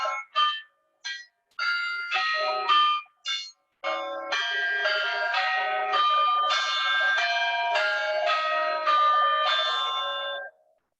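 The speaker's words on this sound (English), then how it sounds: "Other chiming sets include the 5 at Dunton, a Warner 5 of 1887, replacing a set of 3, and have a quick listen to those," Chiming of a ring of five church bells cast by Warner in 1887 at Dunton, Bedfordshire, struck by a chiming apparatus: a few separate strokes, then a steady run of clear, ringing tones with each note sounding in turn.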